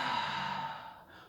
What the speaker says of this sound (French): lâchez librement l'air, que l'air s'échappe librement de votre bouche